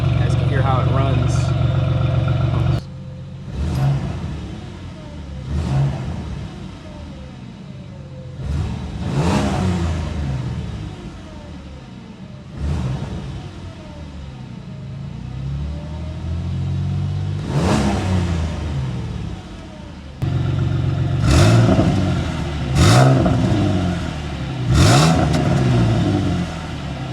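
A person's first car, once troubled by radiator fans failing to switch on and overheating, idles and revs again and again, each rise and fall of the engine clear and close, with brief pauses between bursts.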